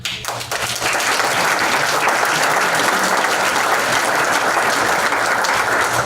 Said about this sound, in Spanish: les voy a pedir un fuerte aplauso para todos ellos